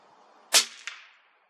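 A single suppressed subsonic .308 Win rifle shot from a Bergara with Beck Subsonics ammunition: a sharp muffled crack, then a fainter secondary snap and a short fading tail outdoors.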